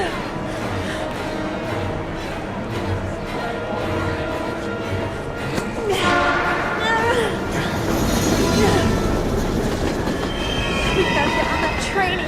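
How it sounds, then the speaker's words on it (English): A train from the video game Heavy Rain rumbles loudly and steadily, its wheels clattering on the rails with squealing and metallic screeches, growing louder and denser partway through. "We've gotta get on that train, Ethan"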